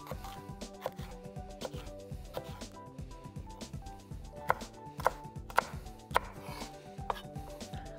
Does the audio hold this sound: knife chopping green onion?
yes